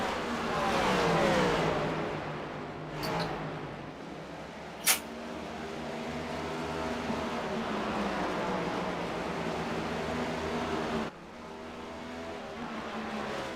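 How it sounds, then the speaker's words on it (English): Race cars in a round of the 2024 Lucas Oil Championship roar steadily at loud volume, engines rising and falling as they pass, with a few sharp spikes over the continuous motor drone. "Can Pearson get that car through to the pit stops that he needs and get that car back into the winning position?"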